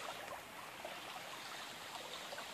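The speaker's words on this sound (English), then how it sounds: "It's rained a little bit, so there's actually a little water in this creek." A small mountain creek running after light rain gives a faint, even trickle and babble of shallow water, steady and unbroken, with no one talking.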